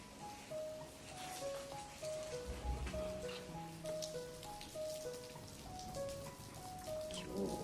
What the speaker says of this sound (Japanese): 今日は文句なく大雨だ。